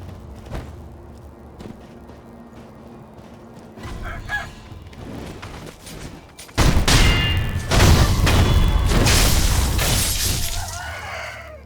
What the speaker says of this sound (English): For some reason those birds just love to attack you.